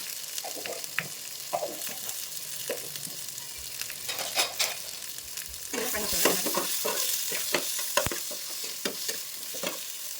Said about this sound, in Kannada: ಇವಾಗ ಬ್ಲ್ಯಾಕ್ ಪೆಪ್ಪರ್ ಇದನ್ನು ಹಾಕೋಣ.